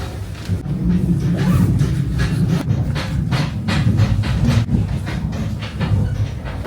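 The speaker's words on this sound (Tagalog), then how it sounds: "Nasa train na ako." Interior of a train riding from Sapporo to Otaru, Japan: a continuous low rumble with rolling track noise and faint rhythmic clatter, loud and steady throughout, with no talking.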